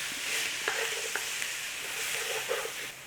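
Chili ingredients stirred and frying in an oiled pan, a soft steady sizzle with a few light scrapes and clicks of the spoon, close and quiet.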